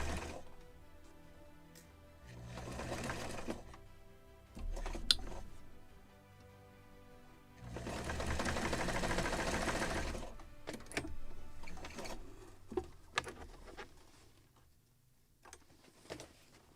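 A sewing machine stitches sails for a model of the 1776 gunboat Philadelphia in two steady whirring runs of rapid stitching, with quiet clicks and handling noises between and after them, close but soft.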